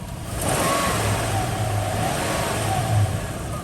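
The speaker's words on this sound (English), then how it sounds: "you can get out a little bit more air by flipping the throttle. So you can rev it" A Toyota 2UZ-FE V8 in a Land Cruiser or Lexus LX470, opened up for heater hose work, is revved with the throttle, its engine note swelling from idle into a sustained loud rev and a brief peak.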